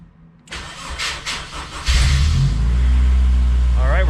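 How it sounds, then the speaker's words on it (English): A Honda S2000 fitted with a fuel surge tank cranks with a short burst of starter whir, then catches and settles into a loud, steady idle close by. "now that everything's done, let's see if the car will start."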